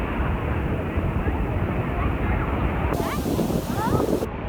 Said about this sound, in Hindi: यहाँ की लहरें सच्ची में बहुत ज़्यादा तेज़ है यार